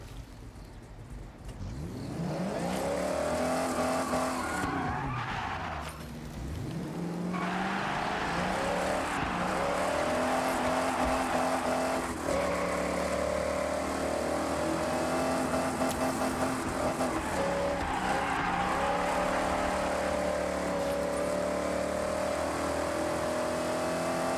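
A racing car engine in the Forza Horizon 6 video game, revving hard and holding a loud, steady roar with shifting pitch that dips briefly early on, then drones continuously close up with no talking.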